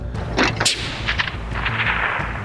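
A bolt-action rifle fires at a target 1,062 yards away outdoors, giving one sharp report with a short rolling echo, followed by a low, steady background rumble and no talk.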